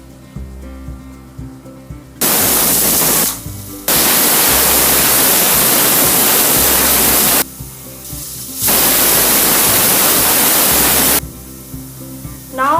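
Pressure cooker on the stove letting off loud bursts of hissing steam during a vegetable soup cook, two long roaring releases separated by quieter gaps, close and dominant.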